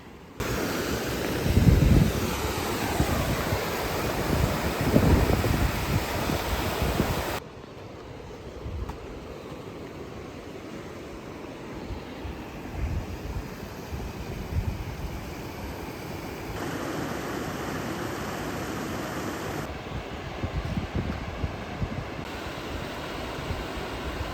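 Rushing water from a waterfall in Grand Teton National Park, Wyoming, in autumn, a steady broadband roar that fills the scene, louder at first and then more distant, with some wind buffeting and no voices.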